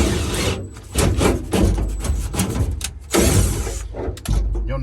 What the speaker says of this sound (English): We'll go ahead and drill those holes. Just cut a 3/8 bit.